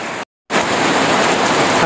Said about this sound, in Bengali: টানা 5টা দিন ধরে এদিকে বৃষ্টি হচ্ছে। বৃষ্টির কারণে সব কিছু একেবারে নিস্তব্ধ হয়ে গেছে। প্রচুর বৃষ্টি, প্রচুর।